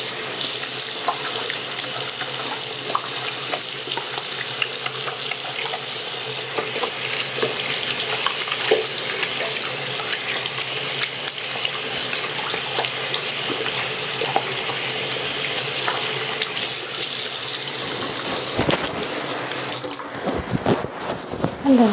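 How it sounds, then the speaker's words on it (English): Steady running tap water splashes continuously into a sink as hands are washed with soap beneath it, ending with a few drips and clatters. "you have to wash your hands with soap and water"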